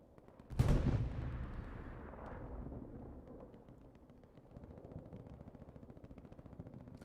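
A high-explosive artillery shell fires in Hell Let Loose, one loud close boom that rolls off into a long fading rumble, followed by faint distant battle noise.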